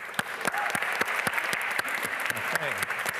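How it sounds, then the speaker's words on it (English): Audience applause at a startup incubator demo day, a steady crowd of clapping hands with a few sharp louder claps standing out near the microphone and faint voices murmuring underneath. "Then give them a big applause again."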